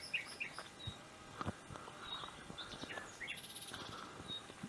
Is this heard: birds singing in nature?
yes